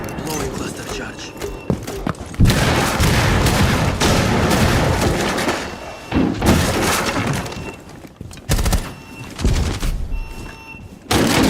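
Cluster charge detonations ripple through a Rainbow Six Siege round as a loud burst of cracking, shattering blasts, mixed with gunfire and debris, while voices talk over the chaos.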